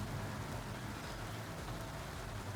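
Steady rain falls outdoors in a continuous, even hiss of drops that stays constant throughout, with no talking.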